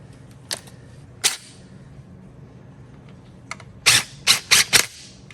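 An impact gun tightens a bolt on a Firebird: two isolated sharp hits early on, then four quick, loud rattling bursts close together near the end, against a quiet background with no talking.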